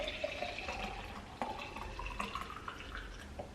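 Green juice poured into a reused 24-ounce glass peach jar in a home kitchen, a faint, steady liquid trickle with small drips and splashes over a few seconds, with no talking.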